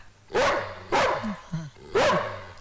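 A dog lying on a bed barks three times, loud and close, with short gaps between the barks and a couple of softer yips in between.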